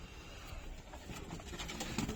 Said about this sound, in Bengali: এই দেখো এটা গিরিবাজ পায়রা আছে, গিরিবাজ লাইনের জিরে পায়রা